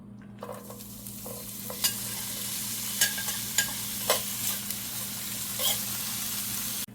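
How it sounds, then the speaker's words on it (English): Scallion, onion and garlic sauté in melted ghee butter in a pot, a continuous close sizzle punctuated by a handful of brief stirring scrapes and clinks, no voices. "So just saute your seasoning and then just add the cabbage in"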